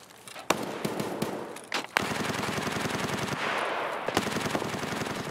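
Rapid automatic gunfire in the shooter game Escape from Tarkov, with dense machine-gun bursts and sharp single shots echoing continuously at close to mid range, no talking.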